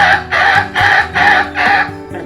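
A human voice imitates a chicken squawking in panic as it escapes and runs off, five loud rhythmic clucking bursts close to the listener with no other sound.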